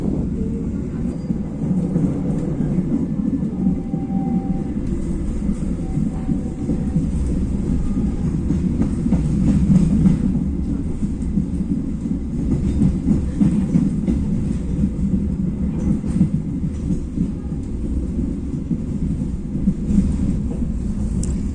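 A local train rumbles continuously as it enters Bojonegoro station, with a steady low roar and faint clattering of wheels on rails, close and loud throughout, without any talking.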